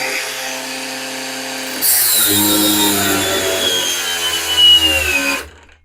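A Grosser GAG 120N cordless brushless angle grinder switched up to its third speed gives a loud, close high-pitched whine that holds steady for several seconds, then cuts off as the motor stops.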